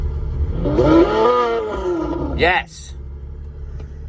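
Simulated Pagani Zonda engine sound from a phone app plays loudly through a car stereo, revving up and dropping off, with a person speaking over it.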